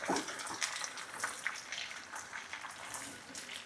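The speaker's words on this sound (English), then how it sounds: "and the tomato, and let all of this saute. Oh, you can hear it." Tomato and vegetables sautéing in a pan for Tex-Mex steak tacos and charro beans, a steady faint sizzle and crackle throughout with scattered small pops, no talking.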